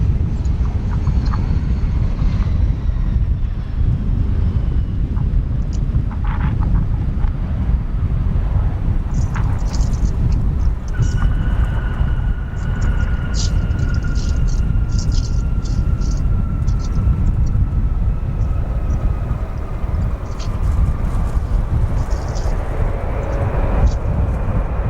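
An airliner arriving at O'Hare International Airport, a broad continuous jet roar with wind buffeting the microphone, a rising engine whine through the middle and a steady rumble throughout.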